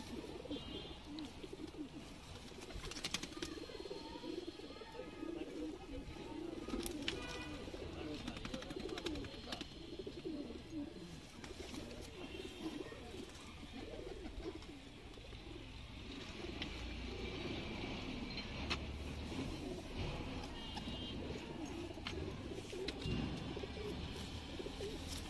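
Pigeons coo softly and repeatedly in a rural yard in R.S. Pura, Jammu, their low calls mingled with faint chirps and ambient outdoor noise, steady and moderately close throughout.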